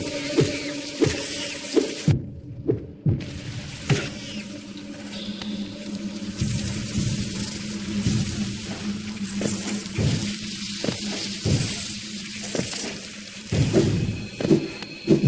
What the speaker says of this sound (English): Deep Nest is a very creepy place. There are spiders everywhere, it is dark, confusing, and it sounds like this.